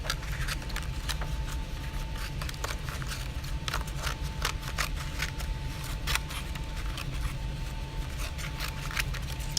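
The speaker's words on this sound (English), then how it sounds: "I'm going to take my scissors and cut off these little pieces in the back that went off my paper" Scissors cutting paper for a landscape collage, repeated crisp snips and scraping blade sounds close up over a low steady background hum.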